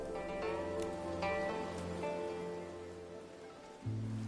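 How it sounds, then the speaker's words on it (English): Steady rain pattering on surfaces in the video game Infinity Nikki, a continuous soft wash under a gentle tonal music bed, with a low thump near the end. "it looks like it's going to rain."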